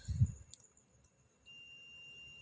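A digital multimeter on its diode/continuity setting gives a continuity beep while probing Honda Beat eco scooter wiring between the injector socket and ECU. A soft thump comes first, then a steady high tone sounds without a break.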